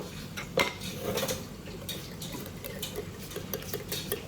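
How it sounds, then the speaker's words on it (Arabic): Bread frying in a pan for a grape-leaf fatteh, heard as a steady close background sizzle with scattered clinks of pans and utensils throughout. "اللي تسمعونه صوت جميلة قاعدة تقلي لنا الخبز"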